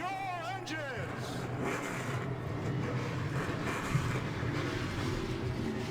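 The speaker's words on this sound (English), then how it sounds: "Drivers, start your engines!" A field of 34 stock race cars fires up at an amateur series race, a thick, steady rumble of many engines building into a massed idle. A short wavering tonal sound comes first, and a voice talks over it.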